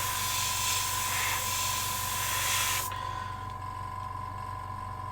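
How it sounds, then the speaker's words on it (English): Airbrush hissing steadily while spraying paint onto a model sand building, a close, continuous airy hiss with a faint tonal whine that drops to a softer hiss partway through. "It's just a quick run of the airbrush."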